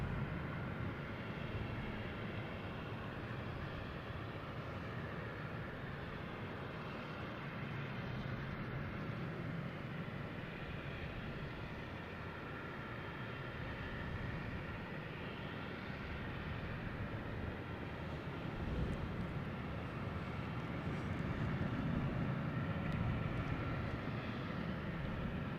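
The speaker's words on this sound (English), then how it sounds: "And we have Delta taking off, heading to LAX." A Delta Boeing 757-200 airliner takes off at Boston Logan Airport, a low, steady engine roar heard from a distance, fairly faint and continuous throughout with no talking.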